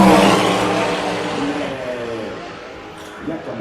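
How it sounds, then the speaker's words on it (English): Race cars flashing past at night along the Le Mans start-finish straight, engine roar reverberating off the grandstands; a loud pass fades away as the whine drops in pitch, then a second car begins approaching. "the sound of the start-finish straight with the reverb that you get"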